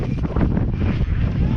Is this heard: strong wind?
yes